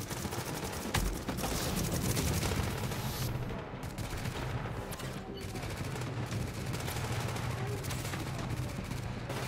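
Rapid bursts of gunfire and heavy explosive shots rattle almost without pause in the shooter game The Division, dense and loud throughout.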